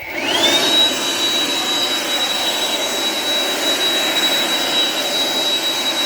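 A TANZU cordless leaf blower runs continuously with a loud, steady rushing whine, spooling up in the first moment and then holding constant, close by and with no voices over it.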